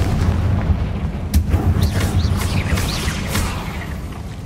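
A Confringo fire spell in Hogwarts Legacy bursts with a deep, rumbling boom followed by crackling, sustained low roar and a few sharp pops, loud and close with no talk.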